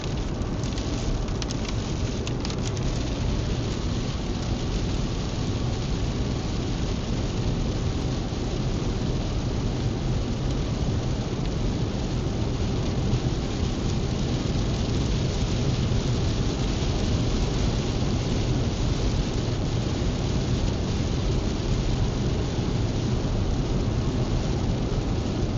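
A thunderstorm passes over Mississippi or Alabama with steady heavy rain pattering on surfaces and low rumbles of thunder, a dense continuous wash with no voices.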